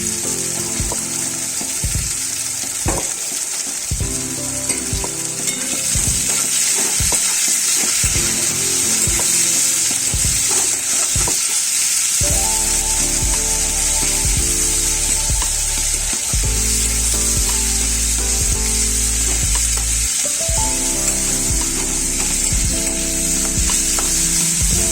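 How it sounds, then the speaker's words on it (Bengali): Whole cumin seeds sizzle in hot mustard oil in a kadai, a steady close crackle and hiss with occasional clinks and scrapes running throughout, with no talking. "গোটা জিরে ফোড়ন দিতে হবে।"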